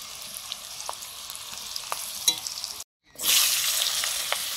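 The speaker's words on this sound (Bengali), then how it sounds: "এইভাবে পরপর সবজিগুলো সব ভেজে নেব।" Vegetables frying in a pan give a steady close sizzle with occasional utensil clicks, then stop abruptly and return as a louder, brighter burst of hissing as more go into the oil.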